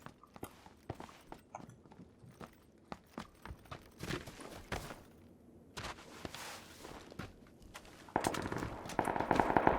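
Gunfire in a PUBG video game firefight: sharp single shots and quick bursts crack out irregularly, some distant and some closer, with a denser cluster of loud shots near the end.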